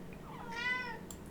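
A cat lets out a single clear meow, brief and bright, close to the microphone against a low steady room hum.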